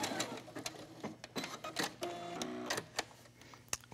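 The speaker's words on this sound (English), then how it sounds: "the zigzag stitch is kind of binding that edge and adding a cute little design" A sewing machine runs a zigzag stitch along the edge of a small fabric tag, with a close, quick mechanical rattle of needle strokes and a soft motor whir, varying slightly in pace, with no voices.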